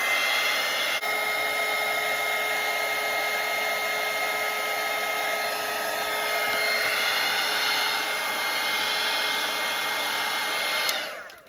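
A hair dryer blows steadily and loudly over a wet watercolour night-sky painting, a continuous whooshing hum that holds for about eleven seconds before clicking off near the end, with no talking.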